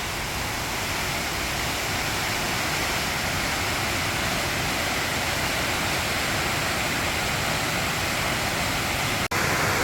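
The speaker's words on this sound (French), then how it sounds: "Ah, une belle cascade, par contre." A waterfall roars as a continuous, loud broadband rush of falling water, steady and unbroken throughout, with a single brief click near the end.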